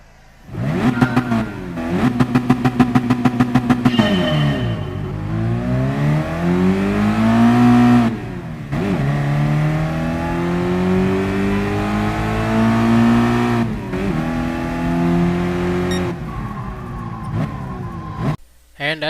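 A car engine revs hard to redline in Gran Turismo Sport, with repeated loud rising sweeps and brief dips at gear changes, droning steadily close up from start to end.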